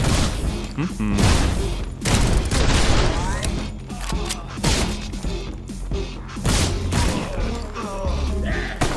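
Rapid gunfire from a John Wick-style action video game, loaded with special ammunition, pours out in dense bursts of shots and impacts that keep going almost without pause, loud and close, with a voice talking over it.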